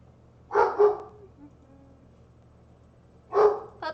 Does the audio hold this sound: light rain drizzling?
no